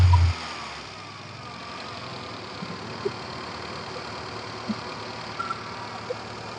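A used car's engine idles quietly and evenly in a dealer lot, a low steady hum with a few faint clicks and no talk.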